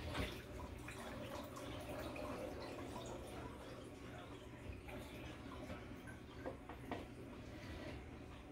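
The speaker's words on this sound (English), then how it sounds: "rinse the blood off this meat" Tap water runs steadily over raw beef being rinsed of blood in a kitchen, a continuous soft splash with faint drips, fairly quiet and without talk.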